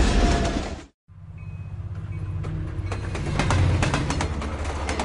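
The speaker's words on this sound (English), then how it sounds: "Breakfast is being served as the train rolls east through the Canadian Rockies" Passenger train rolling on rails through the Canadian Rockies, a steady low rumble with rhythmic clacking, briefly cut by a moment of silence, while a pigeon-like coo sounds faintly.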